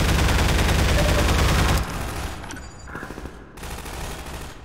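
Rapid bursts of automatic gunfire in Half-Life 2, a dense loud fusillade for nearly two seconds, then quieter scattered shots and echoes trailing off, with no talking.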